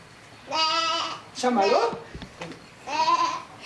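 Sheep bleating in a shepherd's tale, three drawn-out wavering bleats with gaps between, close and clear, with a voice speaking briefly in between.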